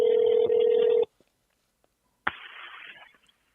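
A telephone line tone sounds steadily for about a second, then cuts off to silence before a crackly recorded line burst follows, heard as a close phone-line signal with no talk.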